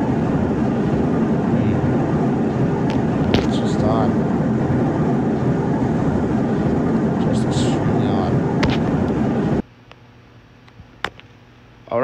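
An airplane flight in the Roblox Expedition video game, heard as a steady, loud engine and cabin drone with faint chimes, which drops out abruptly near the end.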